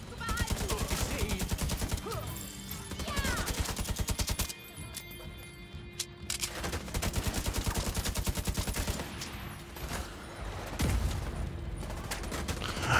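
Rapid bursts of gunfire from the video game The Division 2, dense and loud through most of the stretch with a brief lull in the middle, while a player speaks over the shooting.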